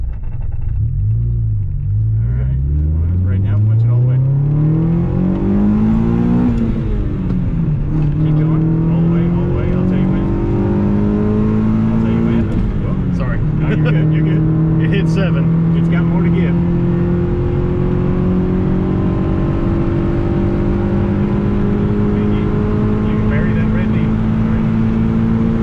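A Chevrolet Beretta GTZ coupe accelerates hard from first gear, its engine note climbing loudly through the revs, dropping at an upshift, then rising again under a constant in-cabin rumble.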